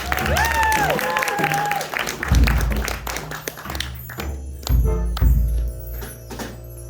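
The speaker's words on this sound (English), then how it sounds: "Please give a round of applause to our actors, Yami and Attila" An audience applauds improv actors at a comedy show, with scattered clapping and thumps mixing with voices and laughter before the room briefly quiets.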